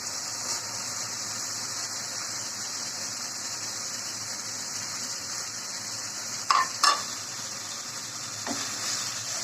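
Shing and magur fish fry in spice paste in a pan with a steady bright sizzle throughout, and a couple of quick spoon scrapes toward the end.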